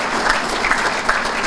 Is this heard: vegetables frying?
no